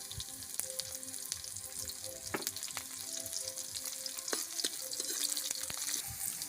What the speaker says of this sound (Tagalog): Lagyan natin yung ating sibuyas.